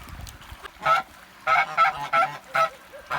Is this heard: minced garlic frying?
no